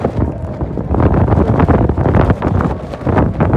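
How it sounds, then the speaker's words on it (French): Gusty wind buffets the microphone in rough, loud bursts with heavy rain mixed into the blustery roar, in Brussels. "Il pleut et puis il y a du vent qui souffle"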